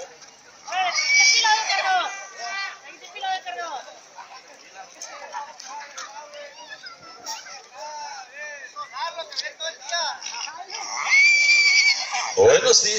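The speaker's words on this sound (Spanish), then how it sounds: "Dos, y relincha." Horses neighing at a horse competition among miniature horses and big thoroughbreds, repeated loud whinnies in bursts over a crowd murmur.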